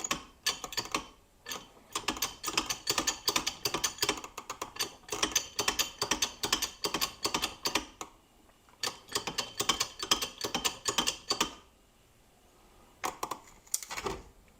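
Wood joint held with glue and screws being strained in a strength test, with repeated clicking, ratcheting bursts of loading in long sequences separated by short pauses, fairly close and dry.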